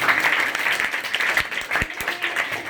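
An audience at a rationalist talk in Surat, Gujarat claps loudly in dense, continuous applause, with a few sharper individual claps standing out near the end.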